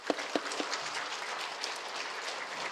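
Scattered clapping from a church congregation at a revival meeting applauding pastors, with a few sharp claps standing out early, then a steady even patter of applause continuing throughout.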